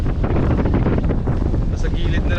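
Strong wind at sea buffets a fishing boat, a loud, constant roar of gusts against the microphone with water rushing beneath it.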